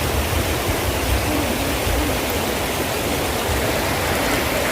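Floodwater roars continuously after a heavy storm at Huai Kut Hae in Kusuman district, a loud, dense rushing wash with no break across the whole stretch.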